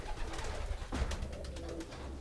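Pigeons cooing inside a loft, a close, low warbling call over a continuous murmur of birds and rustling.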